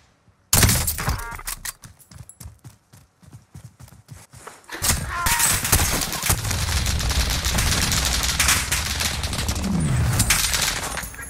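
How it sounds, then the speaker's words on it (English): Gunfire in the video game Call of Duty Warzone Plunder, a rapid burst of close shots followed by sustained loud firing and chaotic action. "Where am I getting shot at?"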